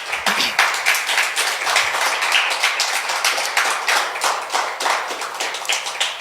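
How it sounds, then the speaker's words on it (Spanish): A church congregation applauds, a thick run of claps that spreads across the room, with individual hands audible in an uneven rhythm that continues the whole time. "Denle un aplauso al Señor por su palabra."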